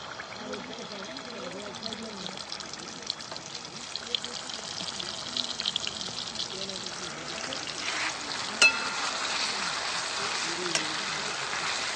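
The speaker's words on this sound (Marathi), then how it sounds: "मस्त अशी मिरची तळून घेतली" Green chili and garlic paste frying in hot oil over cumin seeds for an okra bhaji: a steady, close sizzle and crackle running throughout, with a few brief spikes of spattering near the end.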